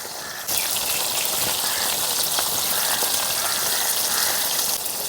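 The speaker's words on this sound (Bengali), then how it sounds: "মাছটা ভাজা হোক" Small bata fish sizzling in a wok of hot oil, a dense, even hiss and crackle like rain on a surface, starting abruptly after a brief pause and continuing steadily close by.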